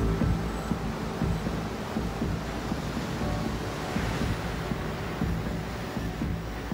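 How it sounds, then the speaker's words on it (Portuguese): Strong wind roars over heavy ocean surf as a hurricane nears an island, a steady loud wash of crashing waves and gusts with no pauses. "As ondas estão mais altas porque um furacão se aproxima da ilha."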